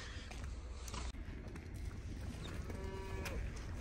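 Cows mooing outdoors on a farm with calves near their mothers, faint and somewhat distant low calls over steady wind-like background noise.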